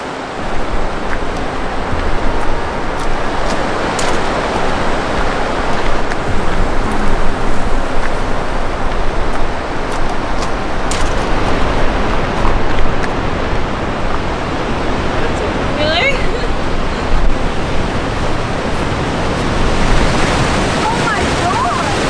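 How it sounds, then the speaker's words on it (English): The waterfall at Iskanderkul, Tajikistan, roars as loud, dense, continuous rushing water, with wind buffeting the microphone. "Crazy waterfall."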